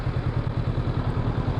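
Honda CB500X motorcycle engine idling close by while being parked, a steady low rhythmic putter for a brief moment, no talking.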